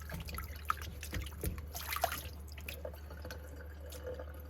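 Soft, scattered drips and trickles fall from plant pots rinsed in a vinegar and water solution, faint and close against a low steady background hum.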